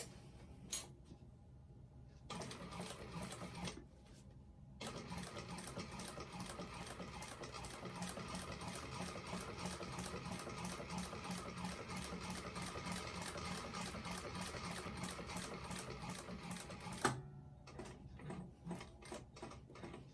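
A sewing machine stitching a bag, short back stitches to lock the seam: a fast rhythmic mechanical whir in bursts, first two brief runs then a long steady run, close and faint with no talk.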